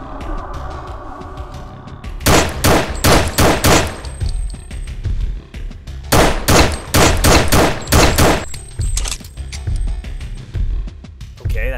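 Shotgun blasts in the video game Unhinged 2, loud and close, fired in rapid bursts of about five or six shots each, with three clusters separated by short pauses, over a low background drone.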